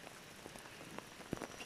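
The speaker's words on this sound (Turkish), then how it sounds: "yağmur yağıyor" Rain falls on a campsite on a mountain plateau, a faint, steady patter with a few sharper drops standing out, brief and quiet with no talking.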